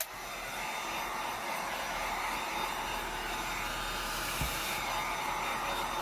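Heat tool blowing hot air to dry a painted farmhouse-style craft project, a continuous close whooshing blower roar with a steady pitch throughout, alone without talk.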